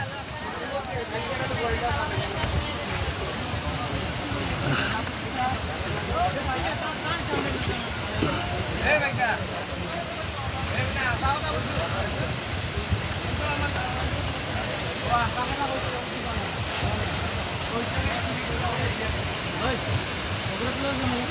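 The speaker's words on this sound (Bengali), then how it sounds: "এই সেই কাঙ্ক্ষিত ঝর্ণা, এই সেই মায়াবী ঝর্ণা।" A rain-fed waterfall gives off a steady, loud, broadband rush of falling water that holds evenly with no breaks. Faint voices may sit beneath the roar.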